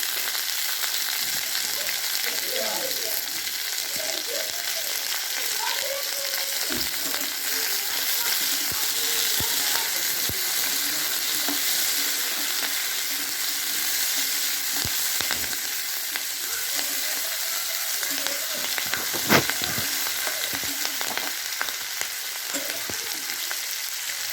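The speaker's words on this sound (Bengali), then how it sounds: "এগুলো একটু ভাজা ভাজা করে নেব" Onion stalks fry in a pan while making a drumstick flower dish, giving a steady, close sizzle with occasional clicks and scrapes from stirring throughout, and no talking.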